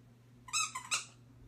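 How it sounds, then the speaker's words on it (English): A dog squeaks its squeaky toy indoors: three quick high-pitched squeaks close together, fairly close and clear, with nothing else but a faint background hum. "He always has to squeak his toy."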